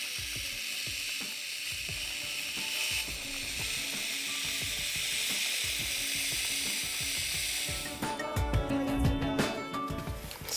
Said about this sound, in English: So I just need to fill up, you know, the remaining gap in there so that the foam is expanded past the surface of the window.